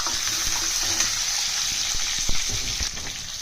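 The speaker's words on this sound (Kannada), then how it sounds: "ಟೂ ಆನಿಯನ್ ಮತ್ತು 2 ಟೊಮೆಟೊನ ತಗೊಂಡಿದ್ದೀನಿ. ಅದನ್ನು ಹಾಕಿ ಫ್ರೈ ಮಾಡ್ಕೊತೀನಿ." Onions and tomatoes fry on a low flame, a steady close sizzle running throughout with a few soft stirring knocks, no voices.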